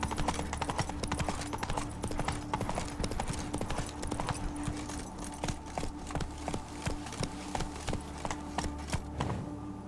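Roach the horse gallops in The Witcher 3 with a fast, steady clip-clop of hooves over a continuous low ambient bed, close and even throughout.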